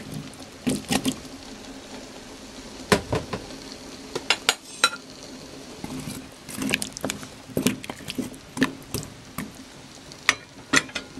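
Potatoes tumble into a pot of beef nilaga already holding carrots and turnips, giving a run of clattering knocks and sharp clinks of pieces and utensil against the pot, scattered irregularly over the stretch with no voices.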